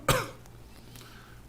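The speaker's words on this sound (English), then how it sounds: "I've got a very irritating cough." A single sharp cough near the start, followed by quiet room tone with a faint low hum.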